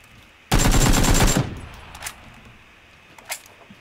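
A rapid burst of automatic gunfire in the video game PUBG lasts just under a second, close and loud, followed by fainter scattered shots and clicks in the background.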